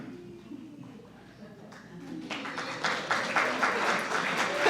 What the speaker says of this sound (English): Thank you for clapping for me doing nothing.